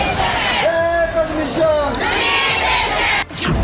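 Street crowd of striking government employees protesting in Maharashtra, a loud continuous roar of many voices with shouted slogans and cries rising and falling over the whole stretch.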